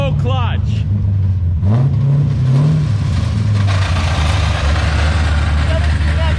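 A drift car engine revs hard with a slipping clutch, a loud steady droning roar whose pitch climbs and sags without catching, close by, while people talk briefly at the start.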